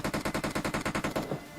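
Automatic gunfire in the video game PUBG, a rapid evenly spaced burst of about a dozen loud shots lasting just over a second, then a fading tail.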